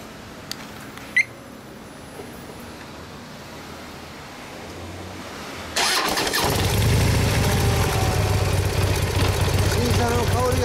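A 2016 Harley-Davidson Dyna Low Rider S, a limited-edition motorcycle, is quiet at first with faint background sounds, then its engine fires up partway through and settles into a loud, steady idle.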